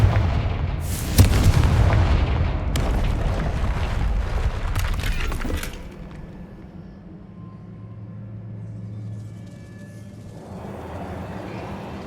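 Fire-spell explosions in the game Hogwarts Legacy, heavy booming blasts that rumble loudly for several seconds, then fade into a low, quieter ambient drone.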